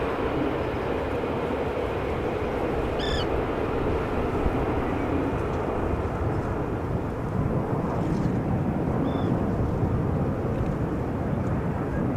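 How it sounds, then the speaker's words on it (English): An Embraer E2 195 jet taxis toward the center runway at Amsterdam Schiphol, a steady broad engine roar with low rumble that holds throughout, a brief tonal chirp and faint voices mixed in. "An Embraer going to the center runway, E2 Embraer 195 by the looks of it."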